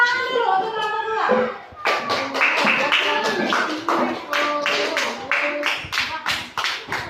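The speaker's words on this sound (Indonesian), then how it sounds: "Tepuk tangan dulu untuk kelompok dua" Children in a classroom clap for group two, a burst of close, uneven hand claps that overlaps an adult's voice at the start and then continues as scattered, loud claps.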